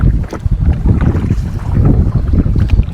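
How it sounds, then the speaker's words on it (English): Wind buffets the microphone while someone paddles an iATAK 110 inflatable fishing kayak on open water, a loud rough rumble that surges and gusts continuously with no talking. "it's a bit of a windy day"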